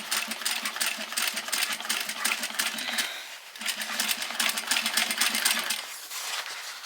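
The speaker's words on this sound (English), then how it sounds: "we're top stitching that down." A home sewing machine topstitches a fabric bowl cozy, a fast rattling needle chatter running steadily and close, with one brief dip in speed partway through.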